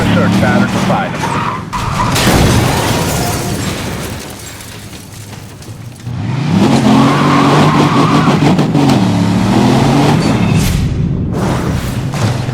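A Bugatti's engine roars and revs in Need for Speed Most Wanted (2012), loud and close, with rising and falling pitch sweeps, a brief dip in intensity, then a strong surge of acceleration.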